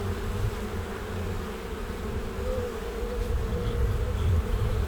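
Bees at a hive kept by a shipping container house, a steady, dense buzz of many insects close by with no talking over it.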